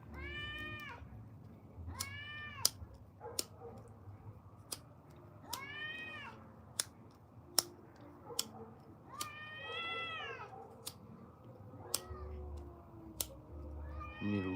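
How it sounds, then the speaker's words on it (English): Several cats meow and caterwaul outdoors, long wavering yowls repeating every couple of seconds at moderate distance, mixed with sharp clicking taps and low background rumble, no talking. "You guys hear these cats?"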